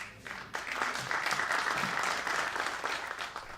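An audience at an emerging markets institute conference breaks into applause, a dense, even wash of many hands clapping that swells quickly, holds steady for a few seconds and then tapers off.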